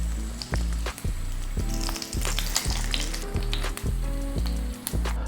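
Chicken skin crisping in hot oil for Filipino chicken inasal, a steady loud sizzle with bubbling crackle, broken by rhythmic scraping or stirring strokes roughly every half second.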